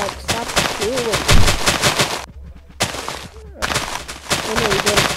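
Rapid gunfire in the Minecraft Hypixel party games, dense near bursts filling most of the stretch with a brief lull in the middle, while a player talks over it.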